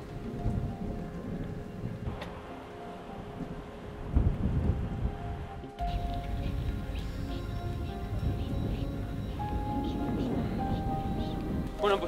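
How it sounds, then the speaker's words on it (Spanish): Steady rain in the mountains at around 2700 m, with low rumbles of distant thunder, including a heavier roll near the middle, under a constant wash of falling water; no talking. "Por ahí se ve la cortina de lluvia."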